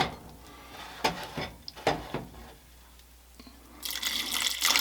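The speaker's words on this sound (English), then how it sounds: "And then just enough water to cover these with about 1/2 inch to spare." Water pours into a pot of salted potatoes on a stove, first as scattered splashes and drips, then building into a steady, brighter rushing fill toward the end.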